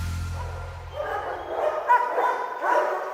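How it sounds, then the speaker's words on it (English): A big Belgian Malinois police dog, trained for dual-purpose narcotics work, gives a few short barks and yips close by, rising in loudness toward the end, with no talking. "Big Malinois, super nice dog, super affable."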